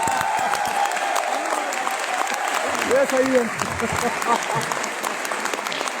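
Audience applause at a business seminar, a steady wash of clapping throughout, with people speaking over it.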